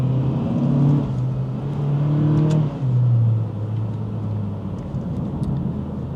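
A 2024 Acura Integra A-Spec engine revs up through the RPMs while driving, rising in pitch in surges, shifting and climbing again, heard loud from inside the cabin with no talking.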